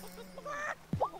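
Poultry calls from hens in the farming life game Wylde Flowers: a low steady tone, then a short sharp squawk and honk-like call, fairly close.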